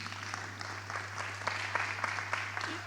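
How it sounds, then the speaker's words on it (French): Light applause from a modest audience at a departmental conference on psychosocial rehabilitation, soft clapping over a steady low electrical hum. "on peut les applaudir"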